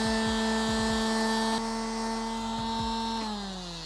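A power sander works a metal 3D-printed arc reactor part, a steady high-pitched whine with several brief contact scrapes that winds down at the end.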